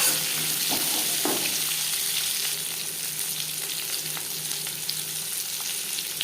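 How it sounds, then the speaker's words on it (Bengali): Prawns sizzle and fry in hot oil, a close, steady crackling hiss with a few stirring clatters early on, gradually softening a little. "10-15 সেকেন্ড ভেজে নেওয়ার পর দিয়ে দেবো কচু।"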